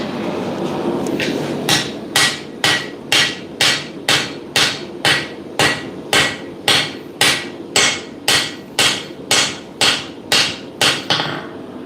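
An English cutler's pattern hammer strikes metal at a forge, about twenty sharp, ringing blows at a steady one-per-half-second rhythm, close and loud, with no talking.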